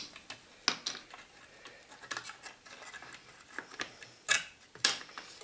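Laser-cut wooden pieces of a Luban ball puzzle knocked loose from their sheet, giving scattered light clicks and taps with a few sharper knocks, close by and without talk.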